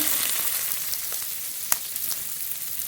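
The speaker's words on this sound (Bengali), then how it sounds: "এতে সর্ষের তেল গোটা জিরে ফোড়ন পেঁয়াজ কুচি পেঁয়াজের উপরে" Chopped onion fries with whole cumin in mustard oil, a dense close hiss of steady sizzling with a few faint stirring taps and no talk.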